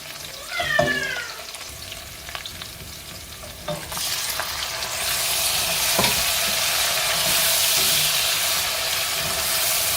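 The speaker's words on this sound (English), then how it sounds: "We're going to let this fry this in the oil for 2 minutes" Kobe fries in oil for a Ghanaian vegetable stew. A few scrapes and stirs come first, then a loud, continuous sizzle swells and holds close by.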